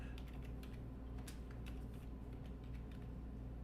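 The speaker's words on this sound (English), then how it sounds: "I'm typing one-handed" Quiet clicking of a computer keyboard typed one-handed, an uneven patter of soft, close key taps with no talk.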